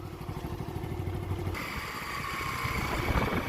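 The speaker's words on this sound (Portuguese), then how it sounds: "Andando de moto aqui, ó." A motorcycle ride carries a steady low engine throb with pulsing rhythm, buried under a constant roar of wind noise on the microphone, moderately faint throughout.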